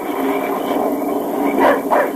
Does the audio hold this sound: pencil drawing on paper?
no